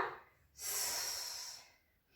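A deep, sustained breath during an abdominal core exercise, one long airy exhale lasting over a second, close and fairly loud, with quiet pauses before and after and no talking.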